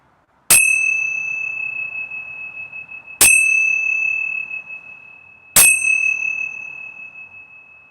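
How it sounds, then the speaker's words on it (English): A meditation bell is struck three times at slow, even intervals, each clear ringing tone ringing out and fading over a quiet background. "I ring the bell"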